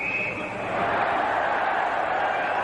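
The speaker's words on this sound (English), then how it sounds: "The crowd roars" Ice hockey crowd at the 1991 Spengler Cup final, CSKA against Lugano, roaring in a loud continuous swell of cheering that builds and holds across the arena.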